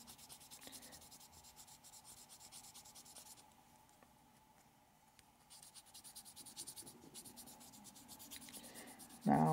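Soft sanding pad rubbed over a Gundam plastic model kit part, a steady close scratchy rubbing that continues with a brief quieter lull midway, ending in a sudden louder knock.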